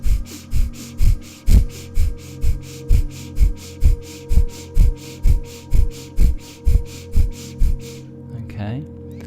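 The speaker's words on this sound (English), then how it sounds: "So we're going to do the breath of fire with this one." Breath of fire breathwork: rapid, forceful exhalations through the nose repeat in a steady rhythm of about two per second for eight seconds, close and loud, then stop.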